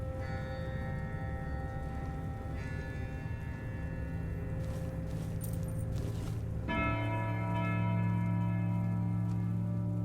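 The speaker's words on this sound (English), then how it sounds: "For whom the bell tolls." A bell tolls in the fantasy video game Tainted Grail: The Fall of Avalon, a sustained ringing tone over a steady droning ambient background, with a fresh strike near the end adding brighter layered resonance.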